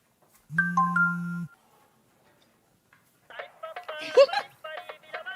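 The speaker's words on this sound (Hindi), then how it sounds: "देख, एक और मैसेज आया" A phone plays its message notification tone as one short, clear chime. After a pause, a voice speaks close by.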